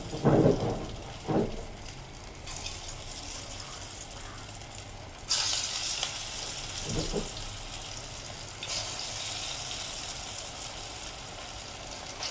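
Onions fry in hot oil during iftar cooking, giving a steady crackling hiss that swells into fresh bursts of sizzling. Faint background sounds sit underneath.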